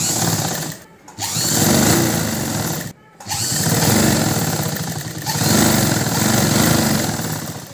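Sewing machine stitching three layered pieces of a lined blouse made from a Poonam saree, running in continuous loud bursts with two short pauses.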